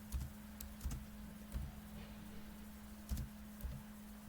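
Keys on a computer keyboard are tapped in a few isolated, quiet clicks spaced irregularly apart, heard close over a steady low electrical hum with no talking.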